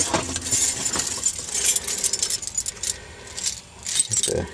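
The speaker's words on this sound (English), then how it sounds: "let me see where the keys are" A bunch of car keys for a 1978 Mercury Grand Marquis jangles and clinks close by in repeated bursts of metallic rattling, with brief pauses between shakes.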